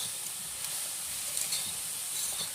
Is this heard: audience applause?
no